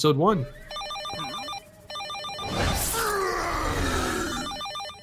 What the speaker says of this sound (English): That's just a phone